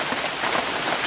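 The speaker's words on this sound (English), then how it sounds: "And more rain" Steady rain falls during a thunderstorm at an off-grid homestead, a dense, even patter of drops on surfaces with no voices, holding constant for about a second.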